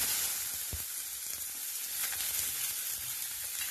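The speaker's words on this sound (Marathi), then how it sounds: "थोडे तेल टाकलेले आहे कढईमध्ये, त्यामध्ये आपण टाकणार आहोत कांदा" Onion sizzles loudly in hot oil in a kadhai, a continuous close frying hiss with a few small stirring knocks.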